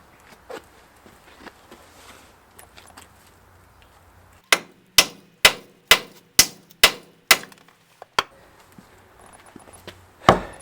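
Sharp metallic hammer blows ring out, first a few light taps, then a run of eight heavy evenly spaced strikes, and one last hit, knocking a wheel stud out of a 2000 Ford F550 dually dump truck.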